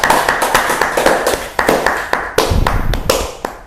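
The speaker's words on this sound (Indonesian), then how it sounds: "tepuk tangan lagi" Audience clapping for a guest on an Indonesian talk show, loud sharp individual claps in an uneven rhythm close to the microphone, bursts rising and falling over a few seconds.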